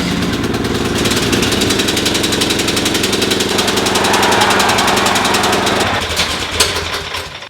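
A lawn tractor engine with a new battery starts and runs at a steady, loud chugging idle, then slows and sputters briefly near the end.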